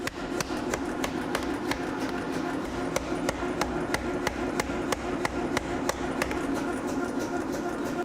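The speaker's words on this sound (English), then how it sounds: "increase the force of the hammer blows, accelerating the process" Rapid, steady hammer blows strike metal over and over in a fast even rhythm as Wootz Damascus steel is forged, ringing out against a constant mechanical hum.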